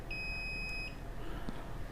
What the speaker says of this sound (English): if the wire is still good, it will make a beep like this